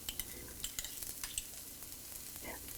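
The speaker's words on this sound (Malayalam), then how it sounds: "വെളുത്തുള്ളി എന്നിവയിട്ട് വഴറ്റുക." Onion, ginger and green chili sauté in a pan with a soft, faint sizzle, while a utensil lightly taps and scrapes the pan in quiet, irregular clicks.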